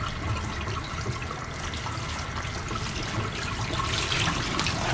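Steady, full rush of running water from a tap while a pastel tri-color spiral tie-dyed tee is rinsed, continuous and close with no voices.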